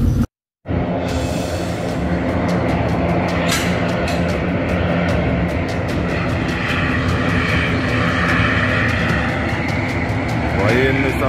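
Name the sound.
military airplane flying overhead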